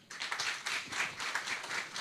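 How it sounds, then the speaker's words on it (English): Audience at a live panel event in the Westport Playhouse applauds with a dense, steady patter of many hands clapping for about two seconds, fairly close and even in loudness. "By a round of applause."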